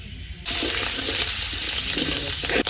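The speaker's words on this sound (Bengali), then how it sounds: "পানি দিয়ে দিই" Water gushes steadily into a cooking pot of fish with onion and garlic paste in a village kitchen, a sudden pour lasting about two seconds before stopping abruptly.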